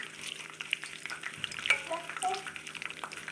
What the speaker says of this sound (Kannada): ಆಮೇಲೆ ಕಡಲೆಬೇಳೆ ಹಾಕ್ಕೊಂಡು ಎಣ್ಣೆಯಲ್ಲಿ ಫ್ರೈ ಮಾಡ್ಕೊಬೇಕು.